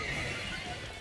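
Glastrier's Chilling Neigh attack in Pokemon Scarlet/Violet: a single brief, bright horse whinny sound effect, loud and alone, lasting about a second.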